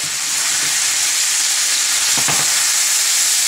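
Peppers and onions for pork fajitas hit a hot pan with a loud, even, continuous sizzle, close up, with a brief stirring scrape near the end and no talk.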